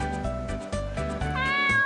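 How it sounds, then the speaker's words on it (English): A cat meows in the Three the Hard Way video game, a close, clear, drawn-out cry that repeats a few times in quick succession with no talk over it. "This is a cat."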